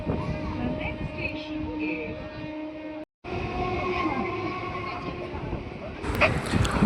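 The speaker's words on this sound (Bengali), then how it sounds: "আমাদের ট্রেন এসে পৌঁছালো সোদপুর স্টেশন" A local train on the Budge Budge to Naihati line pulls into Sodepur station, a steady close rumble and hum with a brief cut midway and rising screech near the end.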